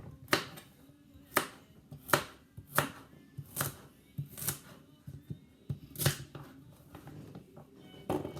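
A kitchen knife chops carrots on a cutting board in a series of sharp, irregular knocks, about a dozen close strikes with short pauses between them and no talking.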